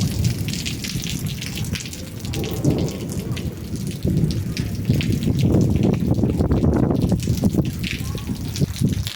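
Steady heavy rain pours throughout during a storm, with low rumbling thunder underneath, fairly loud and continuous; a voice may be faintly present.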